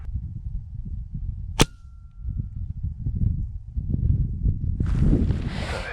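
A single sharp air rifle shot cracks out once outdoors during a dove hunt, clear and fairly close, set against a steady bed of wind noise that later swells into a loud gust.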